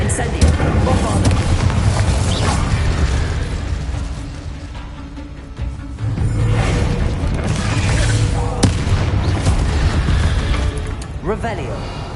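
Bombarda explosion spell cast in Hogwarts Legacy, booming blasts and crashing impacts over a busy game soundtrack, with a spoken voice calling out spell names amid the noise.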